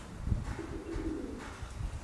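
Low, soft pigeon cooing repeats in a steady murmur, somewhat muffled as if coming from inside a wall or ceiling of an old farmhouse, with no talking.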